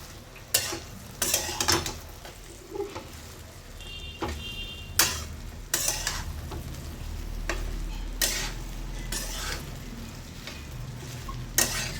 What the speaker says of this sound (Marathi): इथे गॅस मोठा करून आणि भेंडी परतवायची आहे